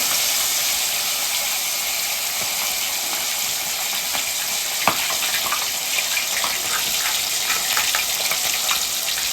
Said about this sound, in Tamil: எண்ணெய் சூடாகட்டும் வாங்க மீனை ஃப்ரை பண்ணுவோம்